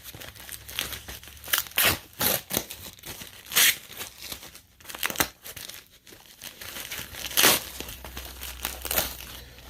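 A plastic bag and foam packing material crinkle and rustle steadily as a pack of fire alarm devices is unpacked, with sharp crackling bursts spread through the stretch and no one speaking.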